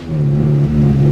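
A K-series swapped Honda engine revving during a rev match, a loud, steady droning engine tone that swells slightly toward the end, close up and without talk.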